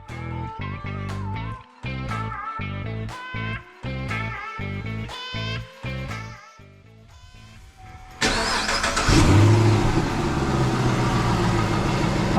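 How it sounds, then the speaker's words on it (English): Drive shaft noise from a failed center bearing on a two-piece drive shaft of an El Camino, heard as a run of repeated engine cranking bursts and short revs, then a steady louder running roar with a rising whine near the car. "And I think the center bearing is failed"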